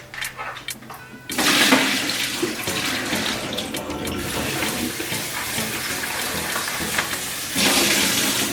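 Tap water pours and splashes steadily over raw pig tails being rinsed in a sink, close and loud, with handling noises at the start and the flow growing stronger near the end, and no one talking.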